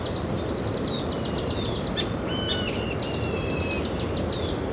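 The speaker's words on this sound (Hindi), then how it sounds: "इतना शांत सा माहौल है यहाँ कि चारों ओर बस पक्षियों की चहचहाट सुनाई दे रही है।" Birds chirp in a quiet mountain forest, giving rapid repeated high tweets in short bursts, with a second call joining midway, all over a constant soft background hiss.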